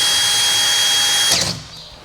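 A power drill whirs steadily at a high pitch while changing the steps on a new Toyota Tacoma, then winds down and stops near the end.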